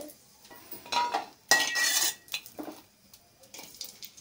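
Cashews frying in a hot pan while a metal spoon stirs and scrapes, giving a series of loud clanks and rattles with faint sizzling between them and pauses in between.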